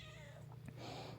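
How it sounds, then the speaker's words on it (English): A cat near a hay mower being repaired gives a single faint meow, close but quiet, over a low steady background hum. "Kitty cat saying hi."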